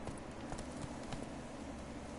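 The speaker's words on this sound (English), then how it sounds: "Luckily, Geralt can always count on his horse, Roach, to help him in his travels." A horse's hooves clip-clop steadily in The Witcher 3 video game, a quiet, even trot of repeated hoof strikes over faint ambient noise.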